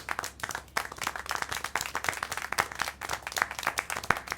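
Applause from a crowd in the video game Syberia: The World Before, with steady, dense hand clapping that stays even and fairly close throughout, with no talk over it.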